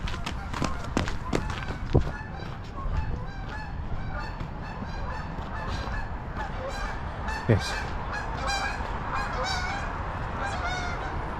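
Several geese honk over and over in a noisy, overlapping chorus, with a brief spoken word.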